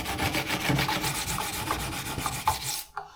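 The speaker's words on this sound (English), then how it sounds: "And we continue our sharpening with plain stone." A knife blade is drawn across a plain whetstone in repeated close rubbing strokes with a gritty, rasping texture. The strokes end abruptly just before the clip finishes.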